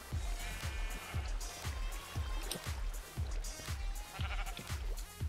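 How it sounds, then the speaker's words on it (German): Sheep bleat repeatedly in a video game, layered over a steady rhythmic thumping backdrop and flowing ambience, with no talk. "Alter, guck mal, wie viele Schafe hier sind."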